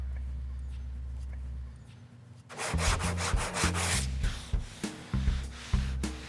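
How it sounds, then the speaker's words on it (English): Hand sanding of body filler on a car body with 80-grit sandpaper: after a quiet start, a run of close, loud, rhythmic back-and-forth rasping strokes in uneven bursts. "we're gonna go to a fresh piece of 80 because we want the sandpaper to do the work, not muscle"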